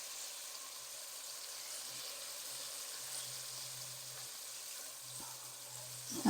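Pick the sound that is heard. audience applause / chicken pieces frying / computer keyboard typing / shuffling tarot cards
chicken pieces frying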